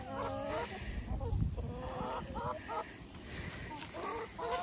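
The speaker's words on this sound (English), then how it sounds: "This is a Jersey Giant. I have 4 of them." Jersey Giant chickens cluck and call in a farmyard, several short bursts of clucking at moderate distance over steady outdoor background noise.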